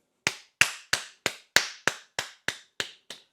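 Applause for a woman from England: ten sharp, evenly spaced claps in a steady rhythm, close and crisp, with no talking.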